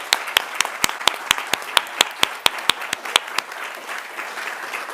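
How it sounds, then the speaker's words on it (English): A small awards-ceremony audience at a students' union excellence awards gives sparse applause: a dozen or so distinct, sharp claps in a steady rhythm, close and moderately loud over a faint room hush, tapering off after about three seconds. "Please give them a round of applause."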